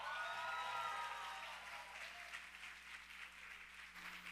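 Audience applause at a conference fills the room to welcome a speaker, steady dense clapping that holds at a moderate level throughout, with some lingering tonal sounds fading early on.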